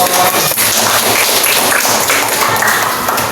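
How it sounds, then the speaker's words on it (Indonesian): Applause in a classroom lesson, a dense and loud burst of clapping that runs steadily throughout without talk. "Tepuk tangan dong."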